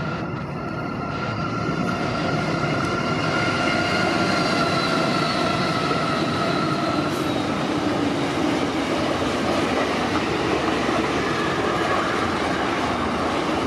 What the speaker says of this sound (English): This is a uniquely rare example of a freight train passing through this rundown supermarket